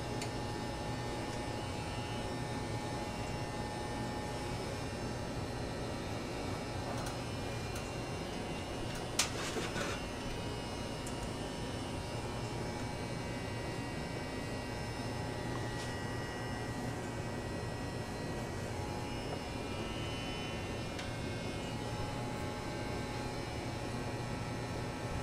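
Electric hair clippers buzz steadily through a self-cut tapered haircut, a continuous close hum lasting the whole stretch with one brief sharp click partway through and no talking.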